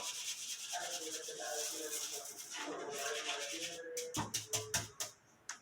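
Hands scrub and rub the bottom and edges of an item while cleaning at home during quarantine in Valencia, a steady close rasping friction that ends in a few sharp, louder rubbing strokes.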